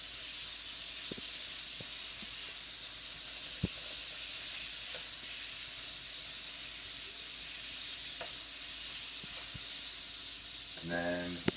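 Butter melting in a hot pan gives a steady sizzle and hiss that runs throughout at moderate level, with a few small clicks and pops.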